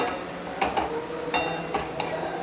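Food being stirred and roasted in hot oil in a kadai pan over low heat, with a few sharp clinks of the spoon against the metal pan scattered over a steady low sizzle; no talking.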